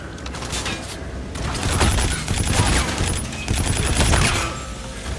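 Gunfire in Call of Duty: Infinite Warfare comes in dense bursts of rapid automatic shots over a mechanical, whirring backdrop, loud and close, with no talk over it.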